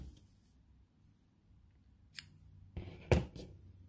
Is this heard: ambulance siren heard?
no